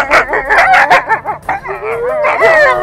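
Several dogs bark and howl up close in a horror-story sound effect, with yelps and rising, wavering howls over about three seconds, loud and alone.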